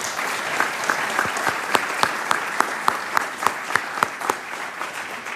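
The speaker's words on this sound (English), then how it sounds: "so we can give you a round of applause?" An audience at a senator's speech on apprenticeships applauds steadily, with dense clapping and distinct sharp claps standing out throughout, moderately close and with no talk over it.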